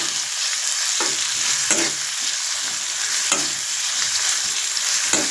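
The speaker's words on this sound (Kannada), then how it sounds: "ಜೊತೆಗೆ ಕರಿಬೇವಿನ ಸೊಪ್ಪನ್ನು ಕೂಡ ಹಾಕ್ತಾ ಇದ್ದೀನಿ. ಚೆನ್ನಾಗಿ ಬಾಡಿಸ್ಕೊಳ್ಳೋಣ." Curry leaves sautéing and being stirred in a pan for raw banana palya, a steady close sizzle with a few sharp spatula scrapes and knocks against the pan, with no talking.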